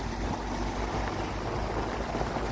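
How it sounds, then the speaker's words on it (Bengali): Heavy rain pours steadily around a motorbike on a muddy road between Silchar and Shillong, a dense continuous wash of noise with low rumble and no pauses. "প্রচুর বৃষ্টি হইতেছে।"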